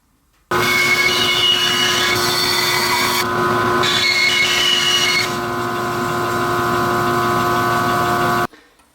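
Bandsaw cutting a 4.5-inch square from the corner of a piece of scrap oak, a steady loud machine whine with a strong tone running about eight seconds, the cutting noise shifting partway through before the saw cuts off.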